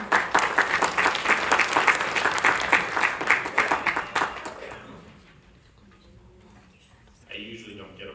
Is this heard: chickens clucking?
no